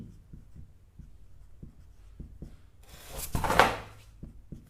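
A pen writes by hand on paper during a maths solution, making soft, quiet scratches and taps in an irregular rhythm, with a brief louder rustle near the end.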